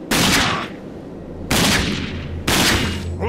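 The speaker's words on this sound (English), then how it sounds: "I'm liking this sniper pistol." Three heavy sniper pistol shots ring out in the video game Rage, each a loud sharp blast about a second apart with a decaying tail, no voices over them.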